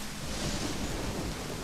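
Steady rain with low rolling thunder in the video game Deadly Premonition, a dense continuous wash of downpour with rumbling underneath, heard alone without any voices.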